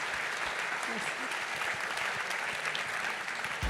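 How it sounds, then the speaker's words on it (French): A crowd at an alumni awards ceremony applauds three former prize winners, steady broadband clapping from many hands filling the room, with faint voices mixed in. "je pense qu'on peut applaudir donc ces 3 anciens lauréats"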